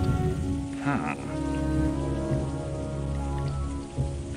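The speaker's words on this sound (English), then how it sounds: "Behold, the rains have come." Steady rain falling in an animated film's score, a continuous wash of patter running alone under a sustained musical bed throughout.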